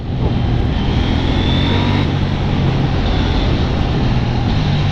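A loud, steady KTM 790 Duke engine roar with dense broadband noise holds throughout, a motorcycle at speed heard up close with strong wind rush.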